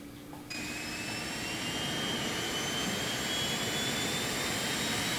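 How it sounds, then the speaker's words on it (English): A Phenom 300 jet engine in X-Plane 11 spools up from a low hum to a steady, loud roar, with rising whine tones climbing over the broadband rush and holding through to the end. "Let's go ahead and start the right engine."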